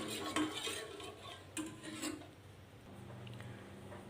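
Milk and butter being stirred while heating in a measuring cup, faint scraping and light spoon clinks against the cup, close but quiet, with a soft low hum in the latter part.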